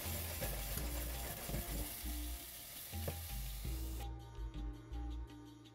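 Garlic and cumin sizzle in a pan that keeps being tossed and shaken, a loud, continuous frying hiss with rhythmic low thumps of the pan, cutting off abruptly into a quieter tail.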